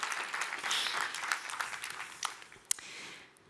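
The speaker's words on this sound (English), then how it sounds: "So could I have like a little round of applause before I get started?" A live audience at a talk on generosity gives a round of applause, a steady patter of clapping that peaks early and then thins out and fades near the end.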